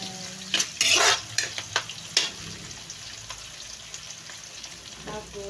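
Meat seasoned ahead is stirred into a pan with sautéed onion and garlic for menudo, giving a low sizzle under a few sharp clatters of a utensil against the pan, busiest early on and then quieter scraping.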